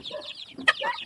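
Backyard chickens cluck briefly and close by, a few short throaty calls overlapping in a quick burst with no talking.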